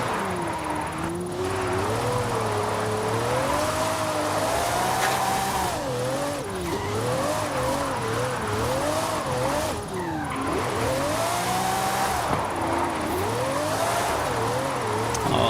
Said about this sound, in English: All right, nice drift around that corner.